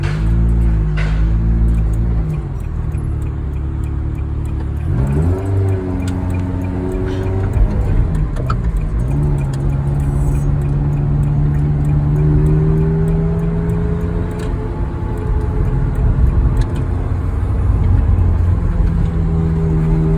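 A Ferrari engine runs continuously from inside the car, a deep droning note rising and falling as it shifts and accelerates, loud throughout.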